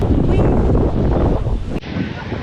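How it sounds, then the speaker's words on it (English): Strong wind buffets the microphone outdoors on a Frankfurt street, a loud steady roar of gusts that cuts off abruptly near the end, leaving a quieter rushing background. "Very windy now."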